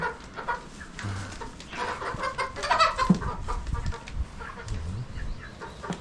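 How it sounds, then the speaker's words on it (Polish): Chickens of the Green-legged Partridge breed cluck and murmur steadily nearby at a coop, with scattered squawks over an outdoor background; no talking. "I są nasze kury."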